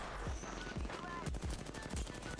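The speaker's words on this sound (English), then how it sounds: "Where are they shooting from?" Bursts of automatic gunfire in the video game Apex Legends, rapid repeated shots in short volleys, moderately loud, with people talking over the fire.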